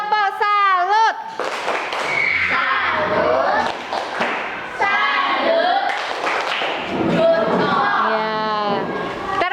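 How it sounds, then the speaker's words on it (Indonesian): A classroom of students performing a salute clap, with rhythmic hand claps and thumps mixed under loud group chanting and voices that run throughout. "Yuk, tepuk salut."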